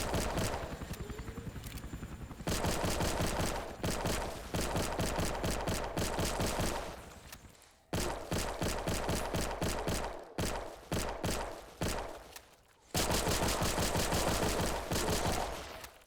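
A sidearm such as a Desert Eagle or TP9SFX fires in Those Who Remain, delivering loud, rapid strings of shots in dense bursts separated by brief pauses.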